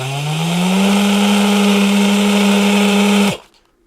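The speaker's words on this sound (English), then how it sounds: "So the motor was rotating clockwise, and let's see, counterclockwise." A DC motor on a PWM speed controller runs with a loud, steady whine that ramps up slightly in pitch at the start, holds evenly close by, then cuts off sharply and winds down into near silence.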